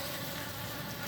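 Wild Apis cerana bees swarm in a dense, continuous buzzing drone, close and steady through the short moment.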